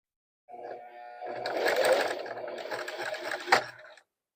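A sewing machine back-stitches to the edge of fabric with its stitch length raised. It gives a close, steady mechanical whirr and rapid needle rattle for about three seconds, ending in a sharp clack before stopping.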